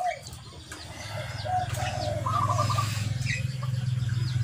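Zebra dove (perkutut) cooing in a rhythmic series of soft notes over a low steady rumble, with faint chirps and a brief wing flutter in the background.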